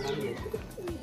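A Kamthi high-flyer pigeon coos nearby, low soft repeated calls, over background chirping from other birds.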